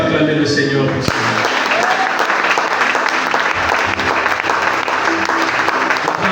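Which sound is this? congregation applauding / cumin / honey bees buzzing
congregation applauding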